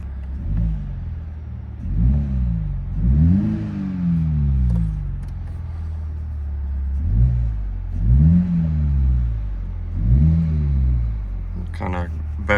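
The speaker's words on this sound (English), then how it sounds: "Let's give it a rev." A Toyota GR Supra 2.0 fitted with an aFe Takeda intake revs repeatedly at idle, each blip rising sharply and falling back in a steady series of near, loud engine swells.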